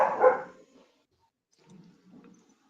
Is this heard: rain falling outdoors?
no